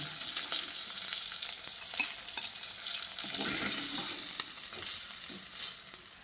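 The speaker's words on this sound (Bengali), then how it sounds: "দেখুন, ঠিক এই রকম একটু হালকা কালার ধরিয়ে মাছগুলোকে ভেজে নিতে হবে" Rohu fish pieces frying in hot oil give off a continuous close sizzle and crackle, broken by occasional spatula scrapes and soft clinks, with no one speaking.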